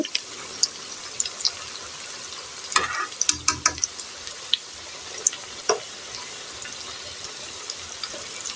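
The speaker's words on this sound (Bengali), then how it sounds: "এপিট উপিট করে এটি ভেজে নিতে হবে যেন ভিতরে কাঁচা না থাকে" Crispy cabbage pakora frying in oil, a steady fine sizzle with scattered crackles and a few clinks of stirring near the middle, with no voices.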